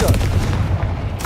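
Confringo explosive spell blasts in the Hogwarts Legacy video game: a loud, dense run of booming bursts that merge into one sustained rumble with crackling on top.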